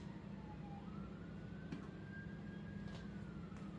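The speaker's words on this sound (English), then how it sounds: "I'm so sorry if you can hear the sirens." Faint, distant emergency sirens drift in from a nearby four-lane highway, thin wailing tones rising and falling far off over a low steady background hum.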